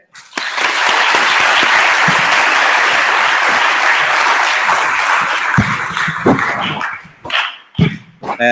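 Sustained audience applause at a closing ceremony greets a speaker, a dense steady clapping that holds loud for about seven seconds before thinning into scattered claps and fading.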